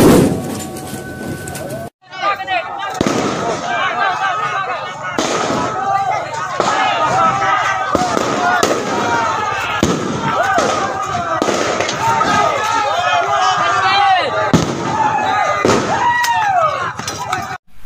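Tear gas canisters fired during a police clash with protesters: repeated sharp bangs and pops sound at irregular intervals over a noisy outdoor crowd with voices.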